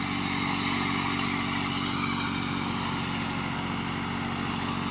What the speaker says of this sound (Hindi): देख लो जी थ्रैशर चल गई सेठ Tufail the brand new thresher